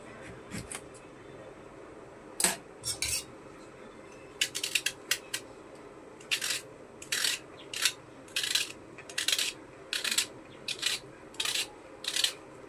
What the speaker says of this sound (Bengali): পটল পোস্তর জন্য পটলটাকে আমি কেটে নিচ্ছি